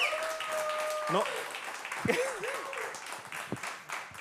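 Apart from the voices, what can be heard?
audience applause for the band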